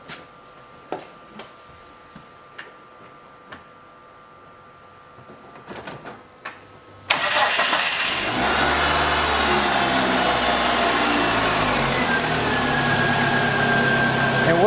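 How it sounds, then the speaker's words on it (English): A 2002 Dodge Neon engine with a P0720 output speed sensor fault cranks and catches after quiet clicks and handling noises, then runs with a loud, steady idle hum that continues to the end. "Now I'm going to start the engine."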